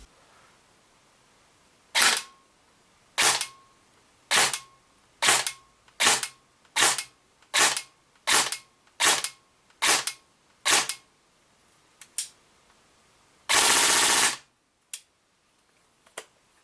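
A Golden Eagle MCR LMG airsoft electric gun fires single shots through a chronograph, about eleven sharp, evenly spaced cracks followed by a short loud burst, then a couple of faint clicks in a quiet room.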